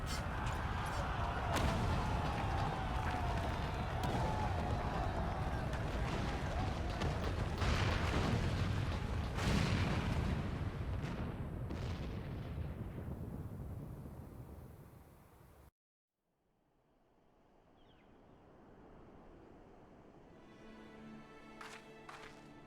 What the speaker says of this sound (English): It must have been the cannon at Qalyana